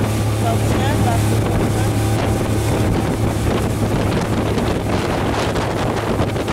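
Steady wind buffets the microphone throughout a small motorboat ride, a continuous roar over a low engine hum, loud and unbroken.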